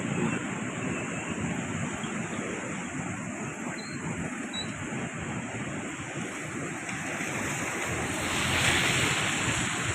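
The flooded Krishna river rushes past a riverside Linga temple in a constant, loud roar of churning water. Wind buffets the microphone throughout, and no one speaks.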